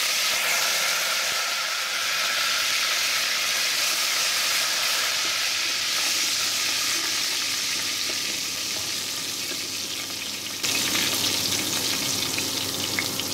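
Mint leaves and chillies fry in hot oil for khichdi, a steady close sizzling hiss that holds evenly, then turns slightly brighter and louder near the end.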